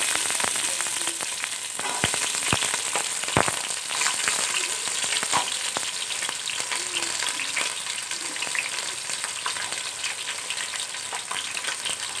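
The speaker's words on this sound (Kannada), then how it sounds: "ಈರುಳ್ಳಿ ಹಾಕೊಂಡು ಫ್ರೈ ಮಾಡ್ಕೊಂಡೆ" Onions frying in a pan for chicken biryani make a steady, close hiss of sizzling oil, broken by occasional sharp clicks from stirring, with no voices.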